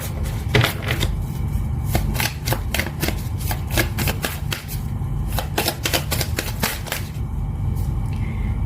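Oracle cards being shuffled up close, with rapid, continuous riffling clicks that come in dense bursts with short pauses, loud and steady and no talking.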